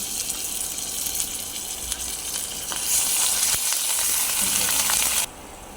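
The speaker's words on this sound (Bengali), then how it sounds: "গরম মশলা তেজপাতা দিয়ে দিচ্ছি রসুন বাটা দিয়ে দিলাম" Garam masala, bay leaves and garlic paste hit hot oil and fry with a close, steady crackling sizzle that swells louder midway before cutting back to a quieter hiss, no voices.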